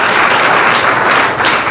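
A church congregation at a Sunday service claps and cheers in praise of God, with dense, steady, loud applause filling the room.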